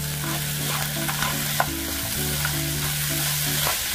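Onion, garlic and chicharrón frying in a pan while being stirred: a steady close sizzle with light scraping stir sounds running the whole time, and no talking.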